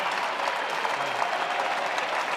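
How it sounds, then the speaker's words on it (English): A crowd at a squash match at Canary Wharf cheers and applauds loudly and steadily, a dense wall of clapping that holds for the whole stretch without easing off. "It's the biggest cheer we've had all night"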